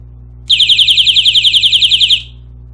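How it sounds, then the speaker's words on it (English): A bump-triggered motion alarm shrills loudly for under two seconds, a rapid warbling electronic tone pulsing about ten times a second before cutting off abruptly. "So if there's any sort of bump on this, it will set the alarm off."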